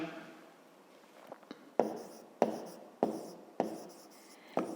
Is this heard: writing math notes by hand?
yes